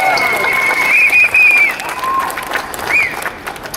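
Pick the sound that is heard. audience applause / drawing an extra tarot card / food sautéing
audience applause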